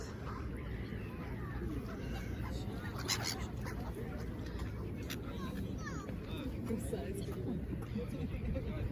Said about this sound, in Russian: Тут чайки, это прям атрибут набережной.